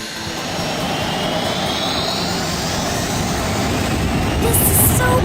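Jet train engines roaring in a kids' animated game, a loud steady jet-like rush with a rising whine that builds toward the end, with no talking over it.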